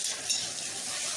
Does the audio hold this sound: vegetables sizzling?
yes